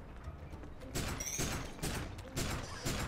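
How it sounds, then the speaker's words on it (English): A bolt gun fires in the video game Tom Sparks and the Quakes of Ruin, with about four loud, broad bursts spaced under a second apart after a quieter start. "Time for the old bolt gun."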